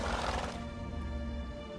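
A horse in The Witcher 3 video game gives a short whinny that fades into a low breathy snort, with no speech.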